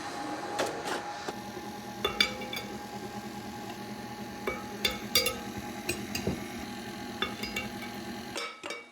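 A stand mixer hums steadily while flour is added a little at a time, with scattered metallic clinks and knocks from a spoon and bowl close by.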